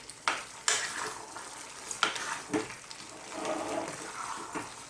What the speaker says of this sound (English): So, let's turn the tomatoes in to the other vegetables.